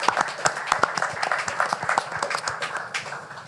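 A crowd at a Washington Wizards event welcoming their 2025 NBA draft picks bursts into steady, dense applause, with many hands clapping close by.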